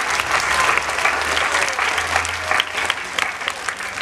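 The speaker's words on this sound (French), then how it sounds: "On acclame très fort pour ce Jésus-là." Loud, sustained applause from a crowd of children and adults at a church mass, dense steady clapping filling the space with a faint murmur of voices beneath.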